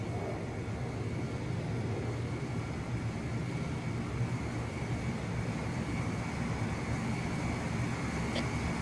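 Steady low jet engine drone from a fighter aircraft in Ace Combat: The Belkan War as it approaches an in-flight refueling craft, a continuous even roar with no talk.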